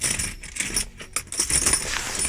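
Pennies being handled during a rare coin search give close, bright metallic clinks and jangles as the coins shift against one another in a hand, with no talk.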